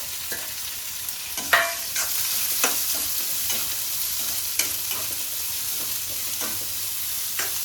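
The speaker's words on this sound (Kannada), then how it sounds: "ಈ ಥರ ಬ್ರೌನಿಶ್ ಆಗೋವರೆಗೂ ಈರುಳ್ಳಿನ ಫ್ರೈ ಮಾಡಬೇಕು" Onions and garlic frying in a pan with a steady, close sizzle, broken up by occasional scrapes and clicks as the food is stirred, no voices.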